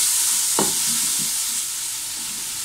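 Carrots stir-frying over high heat for chow mein, a dense continuous hissing sizzle with one brief scrape of a spatula near the start, loud and close.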